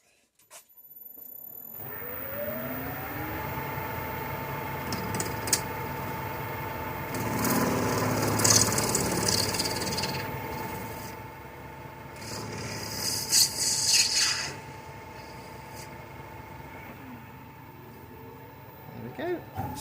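A lathe faces off the end of a brass bar for a live steam model's hinge bracket, a steady motor whine carrying rough cutting rasps that swell and fade in bursts, with occasional talk over it.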